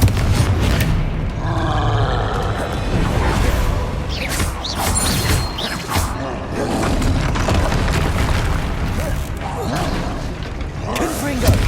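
A troll fight in Hogwarts Legacy on PS5 brings steady heavy booms, roars, grunts and creaking mechanical clatter that stay loud and dense throughout, with in-game voices mixed in.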